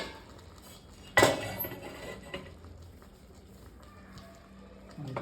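A metal tava griddle set down on a gas stove under a pot of simmering vegetable biryani gives one sharp, close metallic clank, followed by a quieter scrape and faint kitchen noise.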